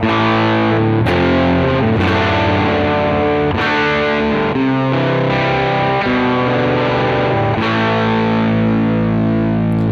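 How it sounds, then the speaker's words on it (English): Loud distorted electric guitar strumming chords steadily, thick and saturated, with rhythmic changes every second or two. "the more you attack the chords harder to get the distortion out"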